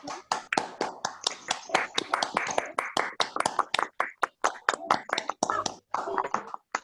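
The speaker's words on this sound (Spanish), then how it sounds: "podemos desmutear los micrófonos y hacer un aplauso" Applause from participants of an online book presentation comes through unmuted microphones as uneven, choppy bursts of clapping with gaps between them, mixed with scattered voices.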